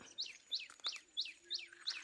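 Small birds chirp outdoors in a rural farm setting, a quick repeating series of about six high, clear tweets evenly spaced, faint and close.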